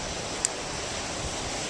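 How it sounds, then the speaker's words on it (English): Wind blowing outdoors as a steady broadband rush and rumble across the microphone, continuous with one faint tick, no voices. "It's pretty windy"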